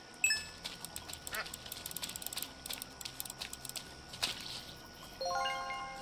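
Ducks quacking in a video game, faint, quick, ratchety quacks repeating under clicky mechanical game sounds, ending with a rising chime.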